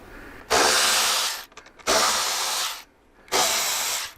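A power drill runs in three long whirring bursts with short pauses between, close and loud, removing bolts from a hinge cover on a 5x7 color-matched speaker lid.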